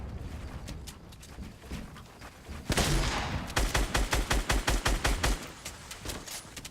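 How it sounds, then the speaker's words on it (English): Gunfire in Fortnite Battle Royale: scattered shots, then a loud burst, followed by a rapid regular string of close shots in quick succession. "I shot this guy so many times"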